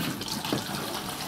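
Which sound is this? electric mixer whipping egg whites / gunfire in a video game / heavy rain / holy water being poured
holy water being poured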